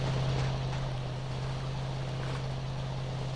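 Motorboat engine in the video game GTA San Andreas, a steady unbroken drone mixed with a rushing wash of water and wind throughout.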